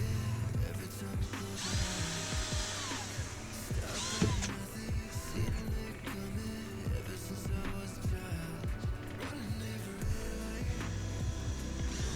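A power drill whirs and bites loudly through a plastic Rally Armor mudflap on a Volvo C30 R-Design, its motor pitch rising and falling in a continuous grinding run.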